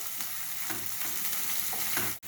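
Onions frying in a pan for bun masala, a close, steady sizzle broken by several soft stirring scrapes at a regular pace, then a sharp clack at the end, with no voices.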